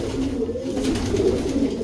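Pigeons cooing steadily at close range in a loft, with low, throaty coos repeating through the whole stretch over a constant background murmur.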